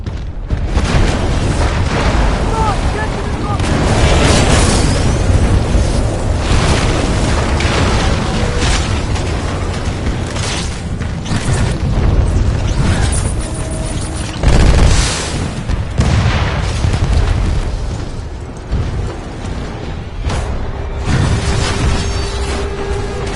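Heavy detonated charges in the video game Titanfall 2 set off a continuous barrage of loud booming explosions and rumbling blasts for over twenty seconds, dense and overlapping with almost no pause.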